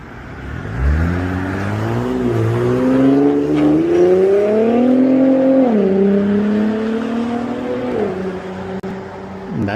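Infiniti FX37 fitted with a Tomei exhaust drives by close and loud, the engine roaring as it accelerates through several gear changes with pitch rising, dropping and climbing again.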